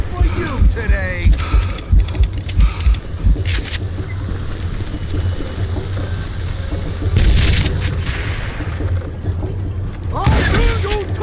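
Gunfire in the Western shooter Call of Juarez, heavy booming shots in quick bursts mixed with game ambience and effects, loud and close throughout.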